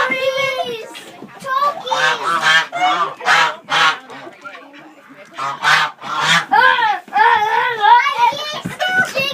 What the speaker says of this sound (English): Geese too, yep.